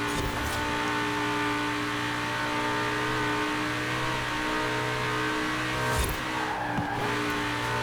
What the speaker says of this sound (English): there's a bit of braking here